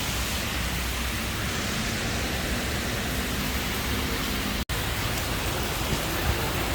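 Heavy rain pours down steadily outdoors on a city street, a dense, even roar that fills the whole clip. It is loud and close, with no talk.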